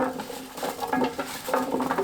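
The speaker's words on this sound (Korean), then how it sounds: "굵은 소금 1큰술, 뉴슈가 1작은술 넣고 섞어주세요." A spoon stirs coarse salt and sweetener into water in a container, giving soft, irregular scraping and clinking strokes that repeat steadily at close range with no talking.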